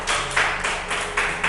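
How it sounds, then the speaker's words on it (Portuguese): A church congregation applauding during a service, rhythmic bursts of clapping in unison repeating steadily, fairly close and full. "Aplauda o Senhor."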